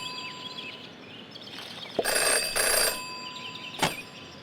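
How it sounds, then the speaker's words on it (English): Telephone rings in the video game Jenny LeClue: a bright electronic ring in two short bursts, then a brief click, over a quiet hum. "Jenny had learned never to ignore a ringing phone"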